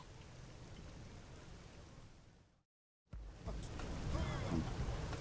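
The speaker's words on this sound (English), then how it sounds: "does it ever stop raining in New LA? It's been raining since I got here." Steady rain hissing over the city streets of New LA in Xenoblade Chronicles X, a dense even wash that breaks into brief silence and returns louder and closer.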